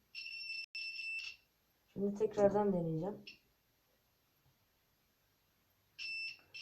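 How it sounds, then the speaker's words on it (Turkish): A shrill 12-volt electronic buzzer sounds in two short bursts, then a person speaks briefly; after a pause the buzzer sounds again. "12 voltta çünkü buzzer çok bağırıyor."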